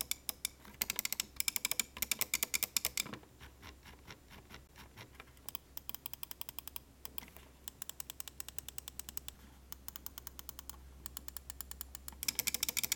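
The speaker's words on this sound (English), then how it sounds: "all the keys are kind of clicky. So let me give you a sound test so you have a better idea of it." Alienware AW720M tri-mode gaming mouse buttons clicked in rapid bursts: crisp, close, dry clicks coming in fast runs separated by short pauses over a quiet background, no talking.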